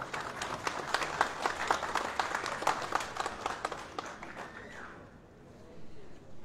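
Applause at an award ceremony honouring a poet and filmmaker with a plaque on a walk of fame, a steady patter of clapping from an audience that fades away toward the end.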